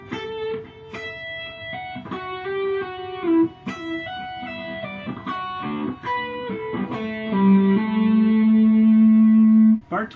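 Electric guitar with effects playing a passage from Pachelbel's Canon, a quick run of clear picked and hammered notes with reverb, ending on a long sustained note, close and unaccompanied.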